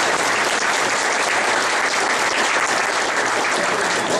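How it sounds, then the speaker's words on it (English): An audience at a 2011 Winnipeg debate on Bipole III, hosted by the Canadian Taxpayers Federation, breaks into steady, full applause: dense clapping that holds at an even level throughout. "how do we put a round of applause together for the Canadian Taxpayers Federation"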